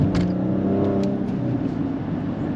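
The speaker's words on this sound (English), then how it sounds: "Oh yeah, and it has this V6." Italian SUV's V6 engine revs steadily up close, a continuous rich drone that holds at one loud level for a couple of seconds with no talk over it.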